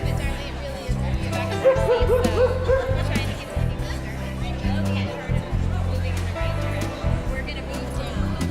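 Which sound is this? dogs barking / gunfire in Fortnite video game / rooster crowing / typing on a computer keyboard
dogs barking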